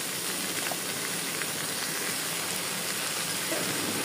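Water is poured into a hot pan of small shrimp and kochu loti, setting off a steady, close sizzling hiss that holds evenly throughout.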